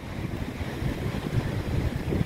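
Strong wind buffeting the microphone at a white-sand beach in Maceió, Alagoas, a steady rough roar mixed with distant surf, with no voices.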